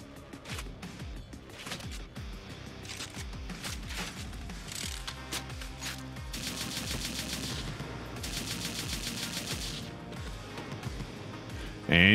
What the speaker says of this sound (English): The primary fire is what you would expect. It shoots bullets. The secondary fire shoots micro-missiles.